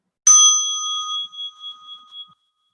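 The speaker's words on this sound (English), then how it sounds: "As you're listening to the bell" A single meditation bell is struck once near the listener, its bright ring sustaining and slowly fading over about two seconds in an otherwise silent room.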